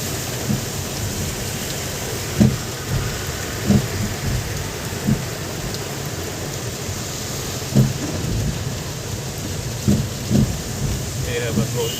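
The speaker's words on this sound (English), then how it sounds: "It's raining quite heavily right now." Heavy rain pours steadily near the lakeside in Srinagar, Kashmir, a constant close hiss, while low thunder rumbles and thuds break through in several short bursts spread across the stretch.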